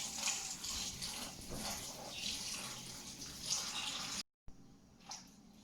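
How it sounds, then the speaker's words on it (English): Water pours and splashes into a mixing bowl in a continuous gushing stream, close by, then a short pause and a few smaller trickles. "Add some water."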